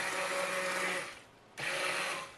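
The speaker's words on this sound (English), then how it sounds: "The reason that I do that is because I don't want my stick blender to burn out." A stick blender whirs in two short bursts, a steady high motor buzz cutting off for a brief pause and then starting again close by, no talk over it.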